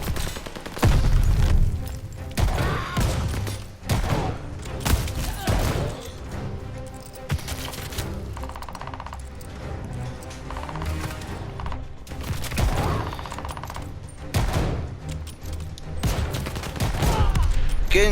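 Dense bursts of gunfire from German soldiers firing shotguns in the World War II shooter Call of Duty Vanguard, loud repeated blasts and booms crowding together over a continuous battle din.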